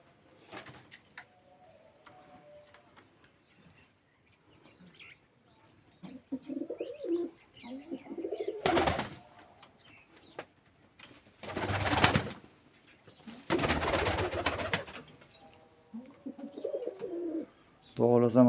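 Pigeons coo in soft, repeated low calls, interrupted by several loud bursts of wing flapping or rustling close by.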